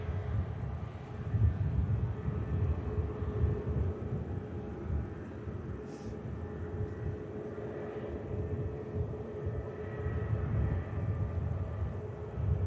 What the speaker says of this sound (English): Another aircraft that will head over to T2.